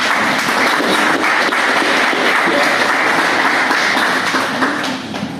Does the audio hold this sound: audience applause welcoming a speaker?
yes